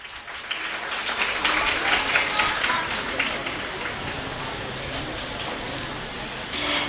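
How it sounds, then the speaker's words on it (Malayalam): An audience at a campus ceremony applauds, a broad wash of clapping that swells and lingers for several seconds while a voice speaks over it. "എല്ലാവരും ഒന്ന് ക്ലാപ്പ് ചെയ്യാട്ടോ."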